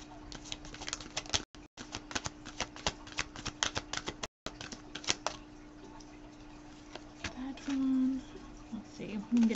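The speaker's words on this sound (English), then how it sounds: "I'll shuffle just the same" Quick crisp clicks and ruffling snaps of cards being shuffled, coming in short bursts, with quiet talk between them.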